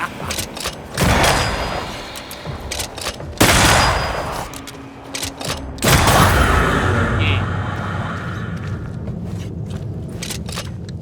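Enemy gunfire in the action game Banishers: Ghost of New Eden, loud bursts of shots and booms erupting in several clusters over a rumbling game soundscape, with a voice talking over parts of it.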